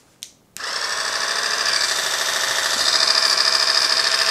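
A small electric spin scrubber motor whirs steadily after a couple of brief clicks, its buzzing hum running continuously and growing slightly louder, close by.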